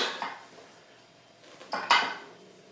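A knife chops through cheese and bacon bread roll dough on a board, giving two quick, soft knocks near the end after a brief scrape, with no talking.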